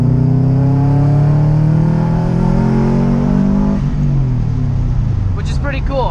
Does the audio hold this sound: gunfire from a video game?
no